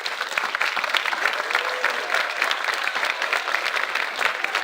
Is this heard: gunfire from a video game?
no